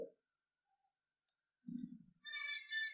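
Computer mouse clicks while working in SolidWorks CAD software, a couple of sharp, faint clicks standing alone amid near silence and brief soft background noises.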